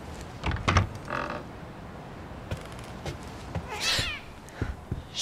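A small cat in the horror game The Medium lets out a few soft meows amid a dim, noisy game ambience, with brief thuds and clatter between the calls.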